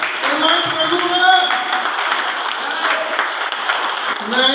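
An audience at a business success seminar claps loudly and continuously, a dense, sustained roar of hands that stays strong throughout with some voices beneath it.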